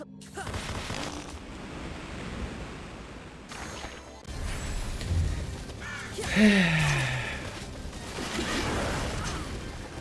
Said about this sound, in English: Wow, rude birds.